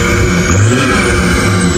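A BMW M57 diesel engine revs in a loud, continuous roar that stays steady and close for the whole short burst, with no voices over it.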